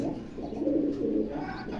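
A Pakistani pigeon coos close by, one low, rolling, throaty call held for under two seconds.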